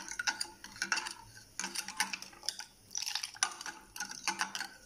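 A spoon clinks and scrapes inside a glass while sugar is stirred into a watermelon drink, several quick bursts of clinking with short pauses, close and fairly quiet.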